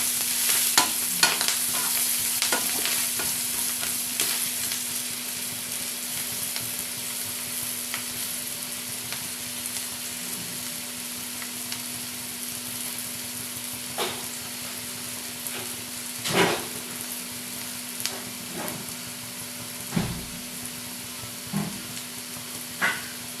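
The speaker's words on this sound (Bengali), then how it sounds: "মশলাটাকে ভালো করে কষিয়ে দিতে হবে।" A spice paste with half a spoon of chili powder stir-fried in a pan while making chicken Maggi noodles, a steady close sizzle with occasional scrapes and stirring knocks of the spoon.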